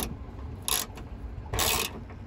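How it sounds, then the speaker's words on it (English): A ratchet clicks in two short, bright bursts while tightening a nut on a window regulator in a 1998–2002 Honda Accord coupe door, close to the mic, with no voices. "Literally gonna hold the freaking nut with my fingers and tighten this guy."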